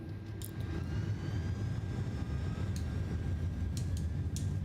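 Inibuilds A330 airliner taking off in MSFS 2024, a loud steady jet engine roar filling the whole stretch with a constant low rumble, a few faint clicks on top and no voices.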